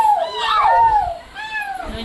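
Children imitate a cat's meow at an anganwadi alphabet lesson, voices rising and falling in two drawn-out mews over a couple of seconds, close and fairly loud.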